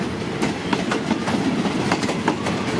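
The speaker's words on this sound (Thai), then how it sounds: "ในส่วนตรงนี้ก็จะมี ขบวนรถเข้ามาครับ รถชานเมือง" A suburban commuter train pulls into Bang Sue station, its wheels beating a steady clickety-clack over the rails beneath a loud, continuous rolling rumble.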